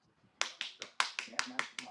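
One person clapping hands, seven quick, sharp claps in an even rhythm, faint and somewhat distant, with a soft murmur of voices just before.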